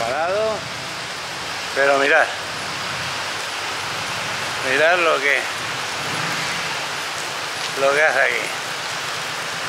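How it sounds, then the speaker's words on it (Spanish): Heavy rain pours steadily at the start of a Transpirenaica hiking stage, a dense continuous hiss throughout, with someone speaking Spanish over it in short bursts. "lloviendo que te cagas"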